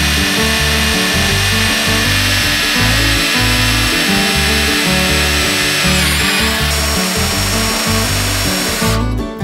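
A power drill, hammer action off, whirs steadily and loudly into plasterboard, its motor pitch rising and dipping in short bursts as it bores in, with a brief clatter at the end.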